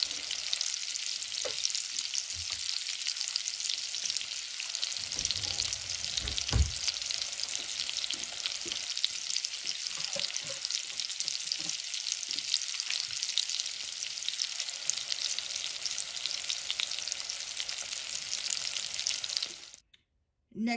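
Salmon sears in a hot pan with a steady, loud broadband sizzle, broken by occasional utensil clinks and stirring, with no talk, then cutting off abruptly near the end.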